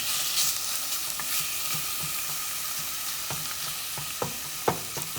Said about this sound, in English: It cooks up just like any other ground sausage.